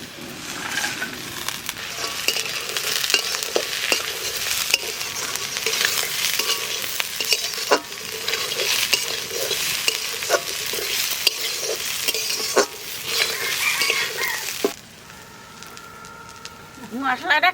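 A spice paste of onion, garlic and ginger fries in a wok for mutton curry, sizzling steadily while a spoon scrapes and stirs in irregular strokes before it quiets near the end.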